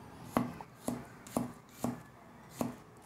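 A knife slices raw garlic thinly on a cutting board for chicken salpicao, five crisp, evenly spaced chops that land close and clear against a quiet kitchen.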